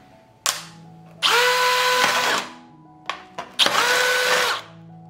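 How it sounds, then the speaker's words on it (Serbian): An electric drill bores a hole into a small plastic bottle near its base, running in two close bursts of whining motor noise with brief clicks and pauses between them, loud and alone. "Uz pomoć bušilice probušit ću rupu."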